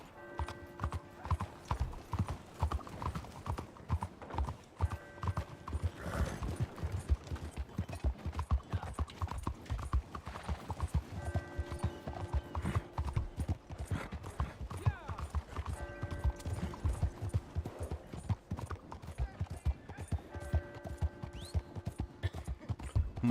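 Horse hooves clip-clop steadily in Red Dead Redemption 2, a continuous rhythmic trot with occasional whinnies, loud and close throughout.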